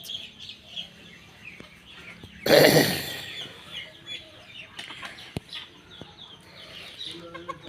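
Free-range desi chickens cluck softly in an open farmyard, with one louder burst of squawking and wing-flapping near the start and scattered quieter clucks after.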